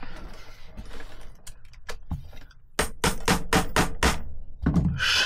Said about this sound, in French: Utiliser le marteau